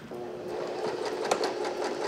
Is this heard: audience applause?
no